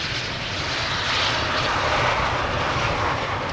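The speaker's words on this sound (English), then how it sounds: "It is even a no reverser landing." An airliner landing at Amsterdam Schiphol without using thrust reversers, a loud, steady broadband engine roar that swells slightly and holds throughout.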